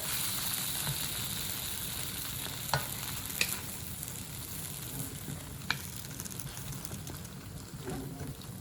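Vegetables sizzle in a wok for a dried-noodle stir-fry, with faint occasional clicks and scrapes of a utensil over a steady frying hiss, close and moderate in level, no talking.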